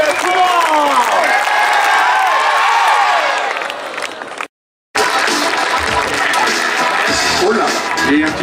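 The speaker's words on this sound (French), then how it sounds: "Allez, on va taper dans les mains, tout le monde." Spectators at a trial bike World Cup event in Méribel cheer and call out loudly, then applause and crowd noise continue steadily after a brief cut, with voices over the top.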